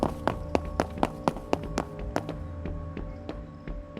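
Footsteps in the game Project Playtime: a run of sharp, evenly spaced steps, close and fairly loud at first, then growing softer and more irregular over a steady low hum.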